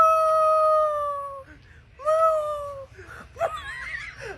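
A person imitates a cow with long, drawn-out, wavering voiced calls, two sustained moos separated by a short pause, followed by squeaky, whining vocal sounds, close and fairly loud.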